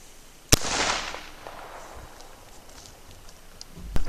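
A handgun is drawn and fired in a quick trigger pull, a single sharp close report followed by a short ringing decay, then another sharp click or shot near the end.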